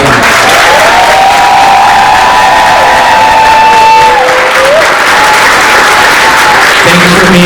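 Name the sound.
applause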